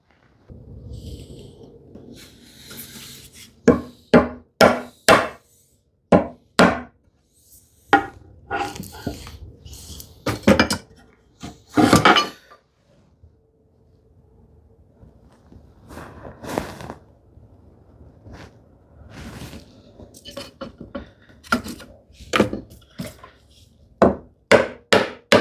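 A chisel chops down a knife wall in wood for a hand-tool shoe tidy joint, landing as sharp, close, irregular knocks and thwacks in bursts with quiet gaps between.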